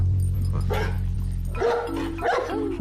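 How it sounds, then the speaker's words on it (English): A dog barks and yips in short bursts, the first part quieter with a whimper-like tone, then several louder sharp barks close by, with no talk over them. "Looks like Sarah's dog."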